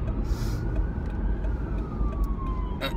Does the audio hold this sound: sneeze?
no